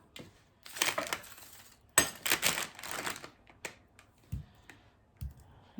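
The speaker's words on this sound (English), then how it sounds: "I'm going to sit here and cut this onion up" A knife slices through an onion on a cutting board at home, giving bursts of crisp crunching and crackling cuts, some longer rasping strokes and a few sharp taps, close and fairly quiet with no talk.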